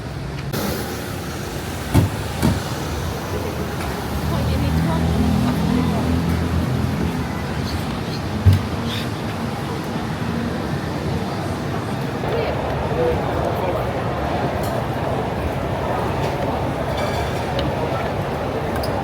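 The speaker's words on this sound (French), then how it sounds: "On prend le métro là pour aller au centre commercial" Singapore metro train ride, a steady low rumble and rolling hum of the carriage running throughout, with a couple of brief clanks early on and people talking over the ride.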